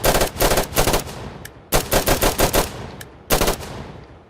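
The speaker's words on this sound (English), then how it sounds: "You have the M16A4, a beloved classic from Firefight Beta" M16A4 rifle firing in the game Firefight Beta, loud close bursts of rapid shots in three short strings separated by brief pauses, with no voice.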